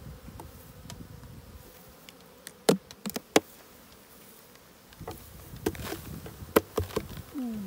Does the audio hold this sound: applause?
no